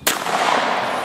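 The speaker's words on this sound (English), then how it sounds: "shooting an over and under Browning Citori at 5 yards?" A single close, loud blast from a Browning Citori over-and-under shotgun fired at a target about five yards away, with a sharp crack followed by a long, bright echoing decay.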